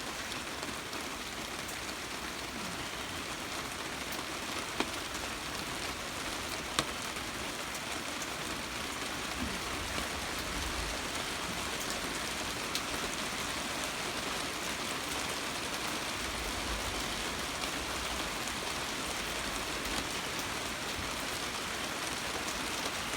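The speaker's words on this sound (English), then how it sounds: "It's raining now. A little heavier, but I think it's going to get even heavier" Steady rain falls on an open pasture, a dense even hiss of drops that continues unbroken with no voices.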